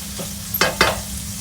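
Garlic, chili and ginger go into a hot pan for a spicy Indian sausage masala, giving a soft steady sizzle with two or three brief stirring scrapes near the middle.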